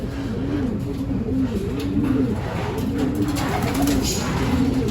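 Breeder pigeons in a colony aviary coo steadily and repeatedly at close range, their rolling calls overlapping above a constant bed of background noise.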